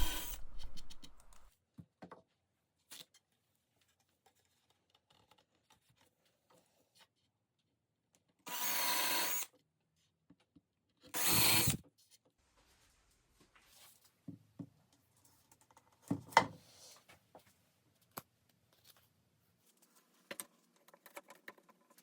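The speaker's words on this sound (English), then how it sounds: "I'm going to pre-drill and countersink holes on the mounting strips." Two loud bursts of a power drill whirring into wooden mounting strips, pre-drilling and countersinking holes, each lasting about a second, between scattered light handling clicks and quiet stretches.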